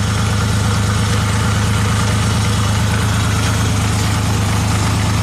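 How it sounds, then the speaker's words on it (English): A motorcycle engine idling close by while a battery connection is checked for voltage drop, giving a steady loud low throb with an even pulsing rhythm throughout and no talk. "So let me run the bike for a second."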